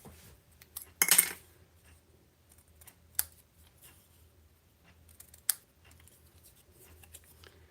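Scissors trimming card paper: three separate crisp snipping cuts, spaced a couple of seconds apart, close and fairly quiet against a near-silent background.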